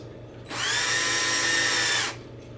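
A power drill runs in one steady burst of about a second and a half, driving a bolt into Delrin plastic parts on a low setting, with no talk over it.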